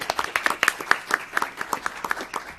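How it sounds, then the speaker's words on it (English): Sparse, scattered clapping from a small audience at a policy workshop on reducing urban poverty, individual claps loose and uneven for a couple of seconds, moderately quiet with no talking. "a round of applause to them as well"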